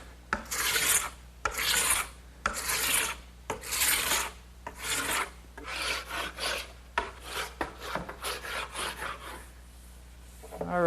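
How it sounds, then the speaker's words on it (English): A hand scraper rasps along rough wood stock for an Adirondack chair, stripping off wax in a series of loud, rhythmic strokes with short pauses between them, and no voices. "So I'm just going to use a scraper and remove all that wax."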